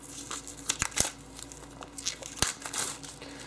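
A printed paper user manual for an LG Prada KE850 phone is ripped out of its packaging, giving a few sharp close tearing bursts and crinkling rustles with no voice.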